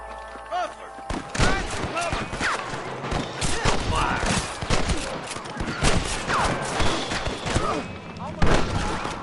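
Dense gunfire in the Western video game Red Dead Redemption, rapid overlapping shots and cracks in irregular bursts after a brief quieter start, loud and close, with voices talking through the shooting.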